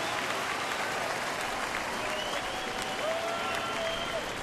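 A 38,000-strong ballpark crowd at a Seattle at Detroit baseball game rises to its feet, cheering and applauding in a steady roar that holds throughout, with scattered whistles and shouts on top.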